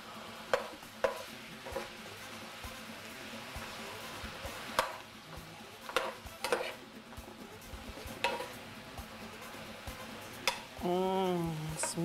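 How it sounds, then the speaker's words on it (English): Ground beef chili con carne being stirred in a pan, with scattered spoon scrapes and pan knocks over a steady low sizzle; a voice speaks briefly near the end. "we'll give it another little stir."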